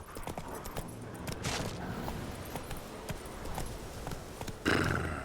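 Hoofbeats of Roach, Geralt's horse in The Witcher 3 video game, clip-clopping in a steady galloping rhythm, with a brief louder burst near the end.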